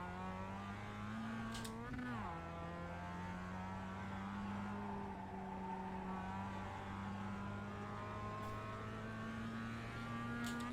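A race car engine blipped on the throttle while downshifting, its pitch jumping sharply then falling and settling into a steady, rising drone, with no voices.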